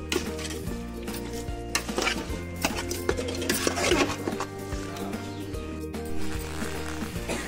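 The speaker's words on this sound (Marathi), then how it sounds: "असं चांगलं आपण परतवून घेऊया." Ingredients for a mango curry being sautéed in a pan, with steady scraping and clattering from a spoon turning them over a low, continuous hum, close by and with no speech.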